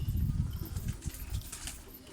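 Pigeons coo softly in a coop holding many bird breeds, low murmuring calls layered over faint rustling, fairly quiet and close.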